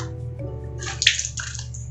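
A small mop is squeezed out in a tiny laboratory washroom, releasing a brief splashing gush of water and drips that rises in the middle of the moment and then trails off.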